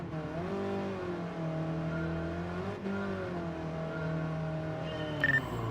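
A racing car engine in a video game drones steadily at mid revs, rising and falling gently in pitch with one brief dip, loud and continuous with no talk.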